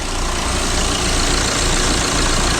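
A Citroën C5 2.0 HDI diesel engine with a freshly replaced turbo idles steadily while warming up, a close, continuous low rumble that holds at an even level with no talk.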